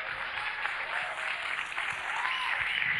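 Audience at a 1985 MC rap battle applauds steadily, a dense wash of clapping from a crowd heard at moderate distance for a few seconds.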